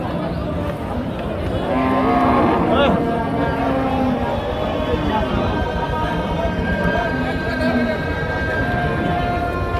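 Black crossbred cows and lean dairy-type cattle low and moo at the Satmile livestock market, with drawn-out bellows rising over a steady crowd din and murmuring voices throughout.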